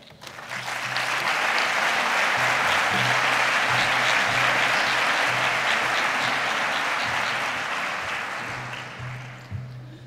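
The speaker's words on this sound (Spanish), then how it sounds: "Fuerte aplauso." Strong, dense applause from a large audience at a professional training event in Mérida, swelling quickly, holding steady for several seconds and then tapering off.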